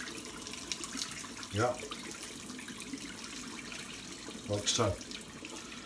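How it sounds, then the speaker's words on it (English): Hot water poured from a kettle over a joint in a Lidl wing comes as two short splashing bursts, a second or so each, separated by a quieter stretch, with a brief spoken remark alongside. "I'll just boil the kettle and you pour the hot water over the joint"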